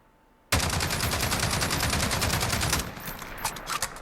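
An L86 LSW light machine gun in Call of Duty Modern Warfare fires a long, loud, rapid automatic burst. It stops abruptly and is followed by scattered echoing shots and a fading tail, with no voices.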